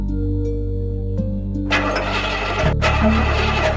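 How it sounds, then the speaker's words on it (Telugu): A motorbike engine cranks over repeatedly without catching, the starter whirring loudly and close by in two bursts with a short break between them; no one speaks. "బండి స్టార్ట్ అవట్లేదండి"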